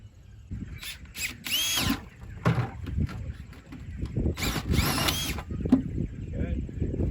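A power drill bores a hole into a plastic catch bucket in several short whining bursts, with quiet gaps and handling noises in between.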